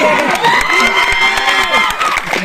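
A theatre audience in Trivandrum cheers and shouts at a film team's appearance, a dense and loud crowd roar with whoops running steadily throughout.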